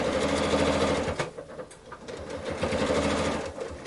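Sewing machine stitching a 1/2 inch seam on a scrappy quilted zippered box pouch made from leftover fabric; steady, loud continuous motor hum and needle chatter with a brief slowdown in the middle before resuming.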